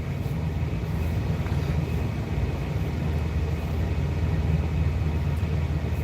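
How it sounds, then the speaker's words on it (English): A Peterbilt truck engine idles at a terminal, a steady low diesel rumble that runs close and unbroken throughout. "I got the truck running right quick"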